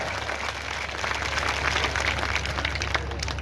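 A crowd at a political rally applauds to welcome candidates, producing a continuous, moderately loud patter of clapping over a low steady hum, with no speech on top.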